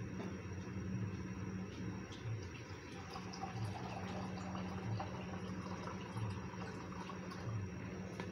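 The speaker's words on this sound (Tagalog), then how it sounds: "Lagyan natin ng konting tubig" Water pouring steadily into a pot of chicken feet, a quiet continuous trickle and splash with faint background hum and no speech.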